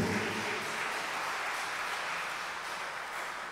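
A congregation at a midday Mass applauds, a dense, steady wash of clapping from many hands filling the church, sustained and even before fading slightly toward the end.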